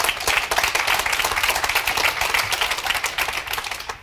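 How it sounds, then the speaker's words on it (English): Close, lively audience applause at a political gathering, brisk continuous clapping that holds steady and tapers slightly at the end, with little talk over it. "give a round of applause"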